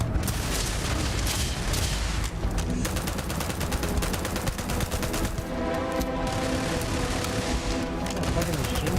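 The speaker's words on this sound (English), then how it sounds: "fucking machine gun" Rapid machine gun fire in the space shooter Starfield, a dense continuous burst of shots and impacts layered with game effects, loud and close, with a voice talking over it.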